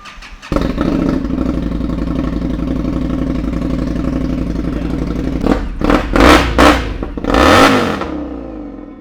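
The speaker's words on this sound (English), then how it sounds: "I'm gonna fire this thing up for you" A custom Kraus Moto bobber motorcycle engine barks to life after a moment of quiet, settles into a loud, lumpy idle, then blips through several sharp revs up close.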